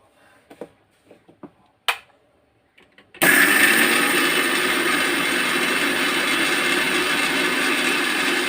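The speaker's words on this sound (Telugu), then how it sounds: "ఇది మిక్సీ పట్టుకున్నాం" Several light knocks and clicks as a mixer grinder jar is set in place, then the mixie starts grinding spices with a sudden loud, steady motor roar and whine that continues to the end.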